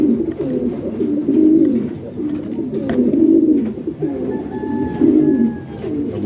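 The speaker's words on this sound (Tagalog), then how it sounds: "Bird." Racing pigeons of the pure Jan Arden strain coo in repeated low, rounded phrases, several birds close by with a steady rhythm of throaty calls and faint background chirps.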